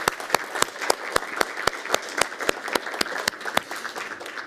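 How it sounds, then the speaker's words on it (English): A round of applause from the audience at a hackathon event, a few near, sharp, evenly spaced claps standing out over a softer wash of crowd clapping that carries on steadily. "let's give a big round of applause for John Burn-Murdoch."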